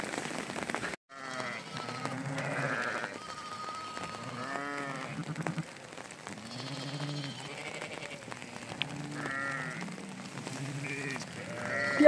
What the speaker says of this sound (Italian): laggiù sono le pecore